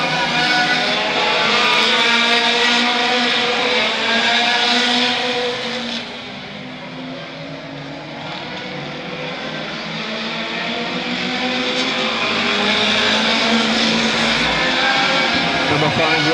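Autocross race cars at the Arena Essex track roar continuously with layered engine drone and revving, loud and sustained, briefly dipping as the cars move away before swelling again.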